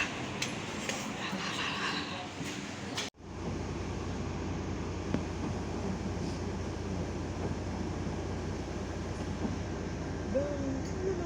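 A metro train in France rumbles with a steady, continuous low roar after a brief cut near the start, the noise holding evenly to the end.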